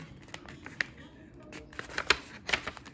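Scissors cut paper while a Stalogy notebook is set up, a few soft, close snips and rustles with light handling noise in a quiet room.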